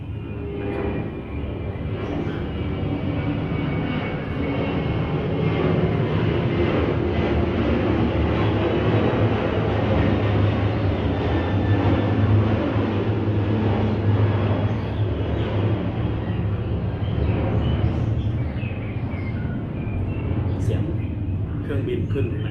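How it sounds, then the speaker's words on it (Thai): An airplane takes off nearby with a loud, steady, broadband roar that fills the whole stretch and slowly swells and fades. "เครื่องบินขึ้นนะครับดังนิดนึงนะครับ"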